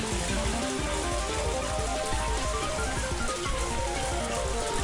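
Steady, dense rain patters continuously on forest leaves and ground, a constant hiss with no voices.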